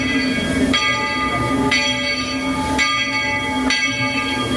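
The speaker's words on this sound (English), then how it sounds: "now we're gonna get on the train and do a lap around" A Disney Magic Kingdom train rumbles steadily nearby with rhythmic clanks, while a bright, ringing bell-like tone sounds at regular intervals above the noise.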